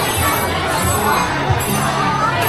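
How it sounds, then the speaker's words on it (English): A loud, dense crowd on a busy Chongqing street, overlapping shouts and voices merged into a constant roar with occasional higher cries, close and unbroken throughout. "Everybody is screaming. Everything is loud."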